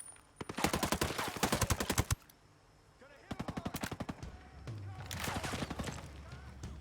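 Sustained bursts of automatic rifle fire in a tactical military shooter, two long rapid strings separated by a pause, then further rattling volleys with a low rumble beneath, close and loud.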